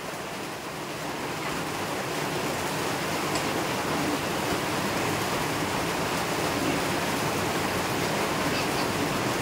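Heavy rain pours at night outside a house in a Philippine province, its front already flooded; a dense, steady roar of downpour holds at one level throughout, with no clear voices above it.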